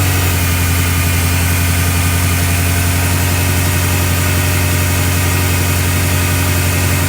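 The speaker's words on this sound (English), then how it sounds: "So here we go with the start of lot 280, the 2017 BMW M6 competition package cabriolet." A 2017 BMW M6 Competition package cabriolet runs at a steady, loud idle, its engine droning with a constant low rumble and even vibration from start to finish, no voices.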